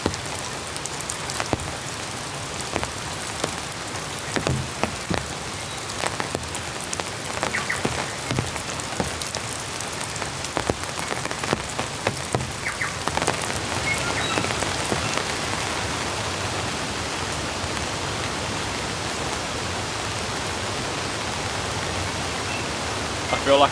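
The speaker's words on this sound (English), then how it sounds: "It's been quite a heavy, consistent rain." Heavy, steady rain pours around a rustic hut with creeks rushing on either side, a continuous dense hiss of drops on surfaces that holds without pause, close and enveloping.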